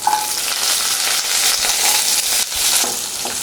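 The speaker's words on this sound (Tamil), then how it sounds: "இதில் வந்து கடுகு, கொஞ்சம் வெந்தயம், கொஞ்சம் சீரகம் போட்டுக்கலாம்." Mustard, fenugreek and cumin seeds sizzle in hot oil for sambar, a loud, steady crackling fry with scattered pops and a brief stir midway, with no talk.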